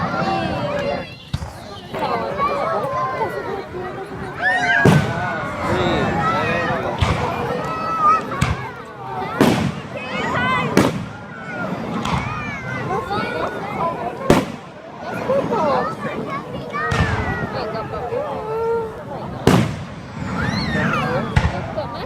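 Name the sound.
fireworks going off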